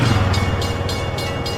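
A train moving slowly in reverse gives off a steady, close, low rumble with a continuous mechanical drone and faint rhythmic clanks throughout, with no voices.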